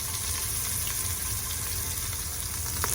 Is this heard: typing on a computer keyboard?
no